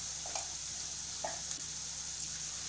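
Red chilli powder, turmeric and cumin powder sizzle steadily as they roast in a hot pan for Banjara dal, a continuous close frying hiss with a few soft stirring scrapes.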